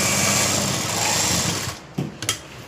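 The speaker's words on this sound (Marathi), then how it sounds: "आता आपल्याला परत दाब शिलाई देऊन घ्यायची आहे" A sewing machine runs a continuous buzzing stitch along a fabric hook-and-eye strip, steady and close for about two seconds before stopping, followed by a couple of brief mechanical clicks.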